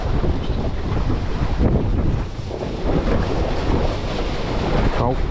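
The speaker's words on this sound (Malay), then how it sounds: "Ribut di tengah lautan." Stormy wind roars and buffets the microphone out at sea aboard a small fishing boat squid-jigging off Penyabung, Mersing, with waves and water rushing beneath; loud and continuous, with a few voices faintly under the gusts.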